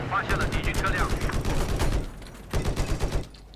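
Rapid gunfire while shooting at enemies in Battlefield 4, a dense stream of close shots for about two seconds, then a pause and a second shorter burst, with a voice talking over it.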